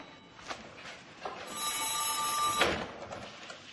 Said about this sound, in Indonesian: Sambungan telepon sudah pulih.